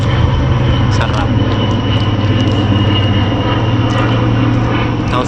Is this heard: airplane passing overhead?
yes